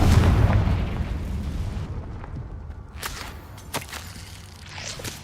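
A Confringo spell explosion in Hogwarts Legacy, a loud booming burst that fades into rumbling, followed by a few sharp cracks and pops further off.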